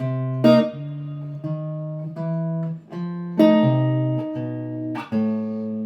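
Clean electric jazz guitar plays a steady walking bass line with chord stabs over a jazz blues 2-5 progression, notes evenly spaced and moderately loud, no voices.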